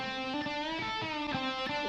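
Electric guitar playing a solo line with sustained harmonic notes, treated with room reverb and a slightly crusty, vintage-style tone; steady and fairly loud, with no voices.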